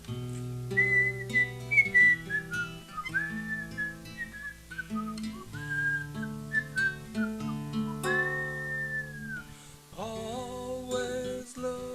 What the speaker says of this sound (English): Just purse your lips and whistle the